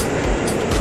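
Commuter train pulling into BNI City station in Jakarta, a steady broadband rumble of wheels and carriages close by, continuous and loud with no voices.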